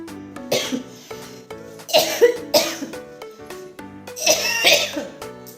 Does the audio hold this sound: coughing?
yes